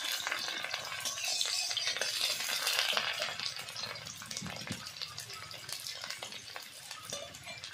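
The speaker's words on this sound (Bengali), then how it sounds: "এখন দিয়ে দেবো কুচানো পেঁয়াজ, একটু লাল করে ভেজে নেব।" Chopped onion frying in oil in a pan with chilli and bay leaf, a steady close sizzling hiss with soft stirring scrapes throughout and no talking.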